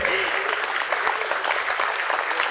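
Applause fills the room at a stock exchange listing ceremony for Nuvama Wealth Management, a dense, steady wash of clapping heard close with voices talking over it throughout the short stretch.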